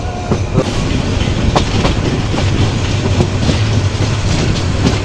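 A meter-gauge passenger train between Dhaka and Sylhet, Bangladesh, runs loud and close at up to 70–80 km/h, with a constant roar and a regular clickety-clack of wheels over rail joints.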